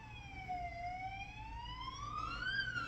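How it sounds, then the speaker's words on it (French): An ambulance siren wails in a slow, sweeping tone rising and falling, heard at moderate distance over low background rumble, with no talk. "Ah, c'est l'ambulance."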